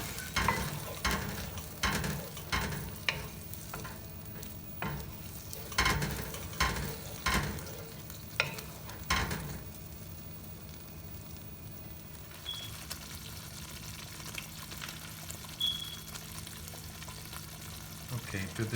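A spoon stirs cooked onion paste and spices in a hot pan, with a string of sharp scraping strokes over a soft sizzle for the first half, then a quieter, steadier sizzle.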